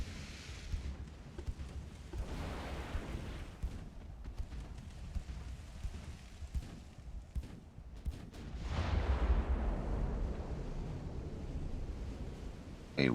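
Ship secondary guns fire at incoming torpedoes in the naval game Ultimate Admiral: Dreadnoughts, heard as irregular muffled booms and thuds over a rumbling, windy background that swells near the end.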